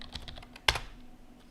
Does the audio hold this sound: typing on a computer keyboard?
yes